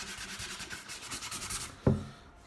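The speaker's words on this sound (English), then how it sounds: "quick sanding on the fine sander" A fine sander works on wood close by, giving a steady, rhythmic rubbing rasp that ends in a sharp knock just before two seconds, after which the sound fades.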